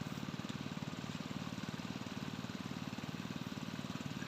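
A small engine-driven water pump runs steadily beside a rice paddy, its motor chugging in a fast, even rhythm at a moderate distance with no break and no voices.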